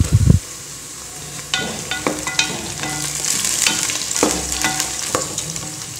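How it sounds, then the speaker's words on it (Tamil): Onions and slit green chillies sautéing in a pan for vegetable pulao, with a steady crackling sizzle and frequent spatula scrapes and taps, close and moderately loud, no speech. "வெங்காயம் நல்லா ப்ரௌனாக வதங்கிடுச்சு, இனி கொஞ்சம் நேரம் வதங்கட்டும்"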